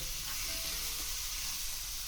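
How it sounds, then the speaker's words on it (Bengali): Pumpkin pieces fry in a pan with neem leaves, giving a steady, soft sizzle and hiss throughout, close but faint, with no talk. "আর একটু কুমড়োটাকে ভাজা ভাজা করবো"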